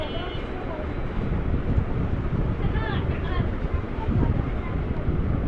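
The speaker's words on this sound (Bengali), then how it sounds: "রেগুলেটরটাকে বাড়িয়ে নিলাম ফ্যান কিন্তু আমাদের অনেক স্পিডে ঘুরতেছে" An electric fan runs at high speed with its regulator turned up, making a loud, steady, close rushing whoosh of moving air that stays constant throughout.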